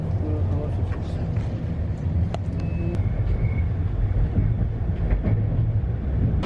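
A passenger train rolling along just after leaving Krakow, heard from inside the carriage: a steady low rumble with occasional clicks and rattles. Faint voices and announcements sit under the running noise.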